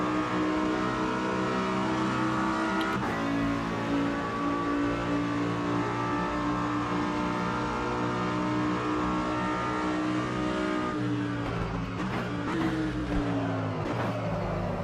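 A race car engine in Automobilista 2 pulls out of the pits on cold tires, a steady, loud droning whine that holds its pitch and then shifts as the car accelerates, with no talk.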